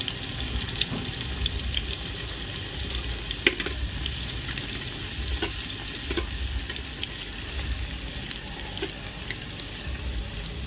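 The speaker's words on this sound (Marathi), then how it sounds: "तेल टाकलेलं आहे त्यामध्ये आता कांदा घालते" Onion sizzles and fries in hot oil inside a clay handi pot, a steady crackle with occasional stirring scrapes and clinks, heard alone without talk.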